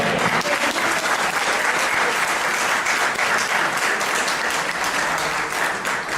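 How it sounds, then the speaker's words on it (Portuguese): A church congregation claps together in a loud, sustained burst of applause that carries evenly throughout with no voices above it. "Deus seja louvado com o nosso aplauso"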